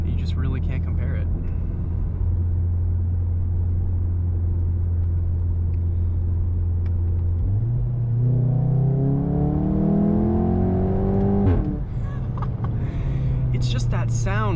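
A Mk7.5 Volkswagen Golf R with a Remus valved catback exhaust drives from inside the car, a loud steady rumble that climbs in pitch as it accelerates through the revs, then settles lower after a shift.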